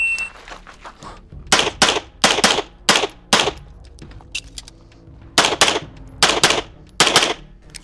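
Rapid strings of Beretta LTT pistol shots crack out during a shooting stage, coming in loud, tight bursts with short pauses between strings.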